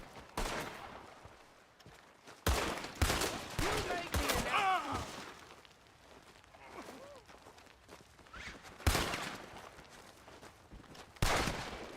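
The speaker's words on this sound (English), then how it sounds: "He's still shooting, it's so funny." Gunfire from Red Dead Redemption 2, several sharp shots scattered across the scene with a steady rattle of other action between them, some close and loud, others further off.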